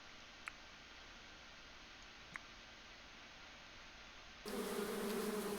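Quiet near-silence with two faint clicks, then a steady buzzing of bees in the video game Going Medieval swells in abruptly and continues to the end.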